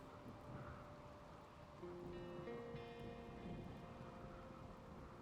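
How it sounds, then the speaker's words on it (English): Rain falls in the RimWorld video game during a raid with fires burning, a steady soft wash of rainfall with low rumbling beneath and faint game tones layered on top. "It's fine, it's raining."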